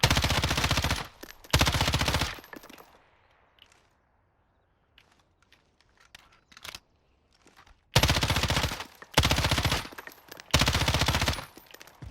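M13 rifle fired in Call of Duty Warzone: loud, dense full-auto bursts in three clusters, two near the start and three more toward the end, separated by a quiet stretch with faint clicks and light shuffling.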